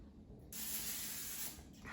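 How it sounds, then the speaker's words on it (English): A sharp burst of non-stick cooking spray hisses for about a second into an air fryer basket, close and steady, then cuts off. "spray it with a non-stick cooking spray"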